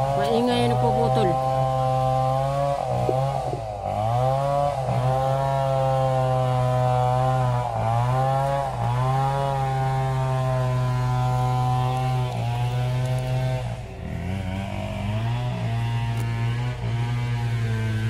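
A chainsaw cuts a tree, droning loudly and continuously with rising and falling revs as the blade bites, and voices talk in the background.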